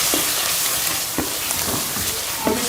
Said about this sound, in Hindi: और मसालों को अच्छे से भून लेंगे।